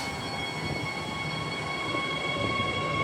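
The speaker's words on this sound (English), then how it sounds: "here we have a train set 82 on the Thornlie-Cockburn Line, departing." Train set 82 departs Queens Park Station on the Thornlie-Cockburn Line with a steady electric whine and sustained tonal hum over rolling rail noise, close and constant, with no voices.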